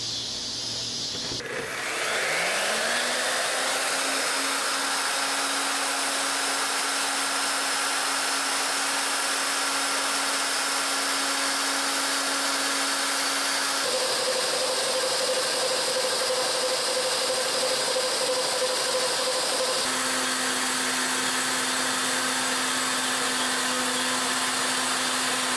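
A wood router bit grinds steadily along a round wooden column, making repeated lowered passes; a loud continuous whine with slight pitch shifts as each pass begins, no talking.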